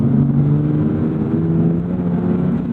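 A 2025 Subaru BRZ tS engine pulls under acceleration, a steady loud droning hum heard from inside the car with no talk.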